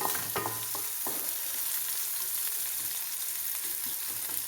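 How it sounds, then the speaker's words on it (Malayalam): Garlic, shallots, curry leaves and pepper sauté in a hot pan for a thoran, giving a steady close sizzle with a few scraping stirs near the start. "ഇതൊന്ന് നന്നായിട്ട് വഴന്നു വന്നാൽ മതി, കാരണം തോരനാക്കാനുള്ളതാണ്."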